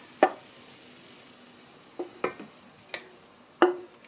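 A spoon clinks and scrapes through penne with pointed cabbage, mushrooms, meatballs and Siciliano sauce in a pan, a few scattered short metallic taps over a quiet background.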